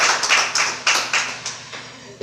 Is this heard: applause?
yes